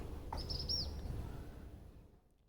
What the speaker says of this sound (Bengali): এদিকে মুরগি আইসা আমাকে ডাকতেছে, খাবার দাও খাবার দাও